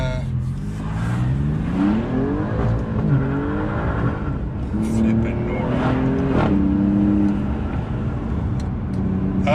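The 2020 Alfa Romeo Giulia Quadrifoglio accelerates on a track in Puglia, Italy, its engine revving loudly through repeated climbing pulls and shifts as the tyres spin, with a voice talking over part of it.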